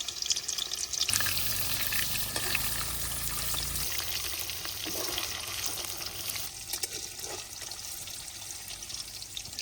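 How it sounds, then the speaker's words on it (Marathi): Paneer fries in hot oil for palak paneer, a loud, steady, close sizzle with crackling and occasional stirring, continuous throughout with no talking. "तेल गरम झालं, आता हे पनीर आता तळून घेतो."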